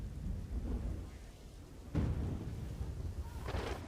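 Heavy, unceasing monsoon rain falling in Dwarka, Gujarat, during flooding, a dense steady downpour with a low rumble like distant thunder, swelling louder about halfway through and again near the end.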